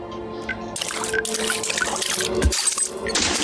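Water effects from the hand-painted animated game Exorcist Fairy, a bright splashing, pouring and trickling rush with game tones mixed in, fairly loud and without speech.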